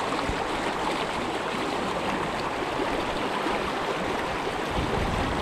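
A deep, cold stream rushes steadily nearby in a dense, unbroken wash of flowing water, loud and even throughout, with no voices.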